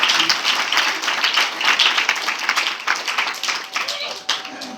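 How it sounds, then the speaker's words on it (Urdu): A church congregation applauding loudly, dense continuous clapping throughout, with a voice speaking over it. "زوردار تالی اپنے خداوند کے لیے"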